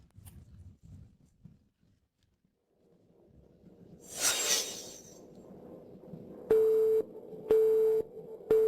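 Phone tone for a switched-off number, heard as repeated short steady beeps with even gaps near the end, preceded by faint rustling and a brief whoosh.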